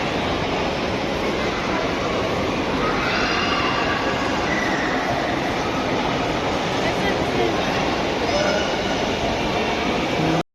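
A small children's ride train rumbles along steadily with a constant, fairly loud rolling noise and faint squeals, while people talk nearby.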